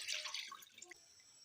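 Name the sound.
water poured into pot for chicken soup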